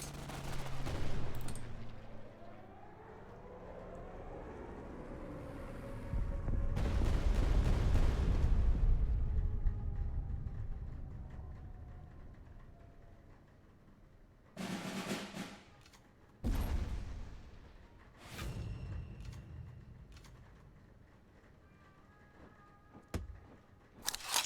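Carpet bombing in the card game KARDS: a long rumbling roar of explosions builds and swells, then fades, followed by several sharp, loud blasts and crackling bursts later on.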